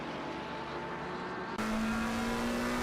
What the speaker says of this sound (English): That McLaren does sound a lot louder than the other cars. I think it's straight piped or something.